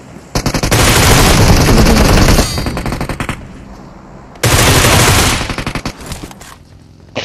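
Bursts of automatic rifle fire in PUBG Mobile, two long loud volleys of rapid shots separated by a brief lull, each trailing off into scattered single shots.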